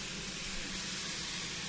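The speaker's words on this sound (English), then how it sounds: "Hopefully that will reduce the amount of steam that they're losing." Steam escapes from the heating connections on a 1953 Horwich-built steam locomotive at a spring steam gala, a steady, close hiss that holds without pause.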